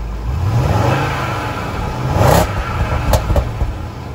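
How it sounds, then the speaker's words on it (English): A 5-liter supercharged V8 in a Range Rover revs in a steady, close rumble, rising into two brief louder surges, heard alone without talk. "It's a 5-liter supercharged V8 producing 510 horsepower and 461 pound-feet of torque."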